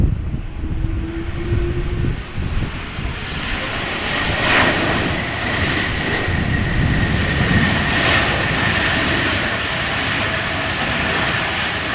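A KLM Embraer E2 195 arriving from Aberdeen lands at Amsterdam Schiphol Airport on a crosswindy day, its engines in reverse thrust making a loud, sustained jet roar with a whining tone, heard from nearby.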